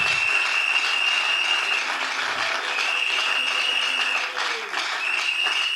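A church congregation applauds the Lord at a worship service, a steady wash of clapping held at an even level throughout, with a sustained tone ringing above it.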